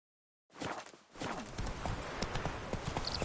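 Roach the horse in The Witcher 3 walks along a road, hooves clip-clopping in an unhurried rhythm at close range against a low outdoor ambience.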